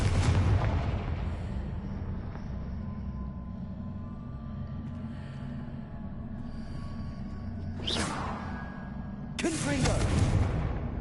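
Confringo spell blasts in Hogwarts Legacy, booming explosive bursts at the start and near the end with a rumbling crackle between them, loud and close.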